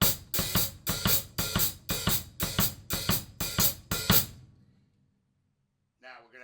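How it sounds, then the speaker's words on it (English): A kick drum and hi-hat play a swinging Purdie shuffle groove, about eight even beats, then stop and ring out; a voice begins briefly at the end. "play it fully in shuffle mode along with the hi-hat. So the two of those together sound like this"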